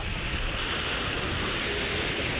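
Sea waves wash steadily onto the shore of a crowded beach where boats are drawn up. A continuous, fairly loud rushing surf is mixed with wind noise, and no one speaks.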